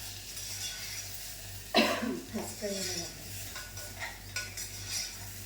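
Masala-stuffed brinjals are stir-fried in a pan, with a steady low sizzling hiss throughout and a sharp scrape of the stirring utensil near the middle, followed by a few softer clinks and faint murmured voice sounds.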